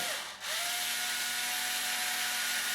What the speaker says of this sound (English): we'll do it quickly with a screwdriver so you can see it